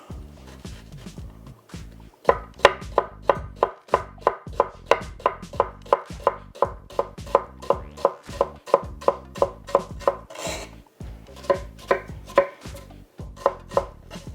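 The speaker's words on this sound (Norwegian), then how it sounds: "hvis vi bare skjærer det smått ned" A knife chops onion finely on a cutting board, a long run of quick, evenly spaced close thuds after a brief pause, steady and crisp with no speech.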